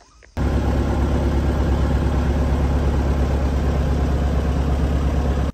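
A farm tractor's engine starts up and settles into a loud, steady low rumble close by, running on evenly with no talking.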